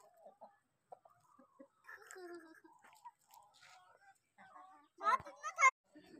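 Aseel roosters and hens cluck softly and intermittently in a backyard coop, faint and close, with louder squawks near the end and quiet talk mixed in.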